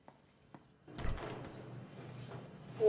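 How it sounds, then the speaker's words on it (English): A door swings shut with a loud thud and a short rattle in an indoor room, followed by lingering low room noise and shuffling. "Vera, please close the door."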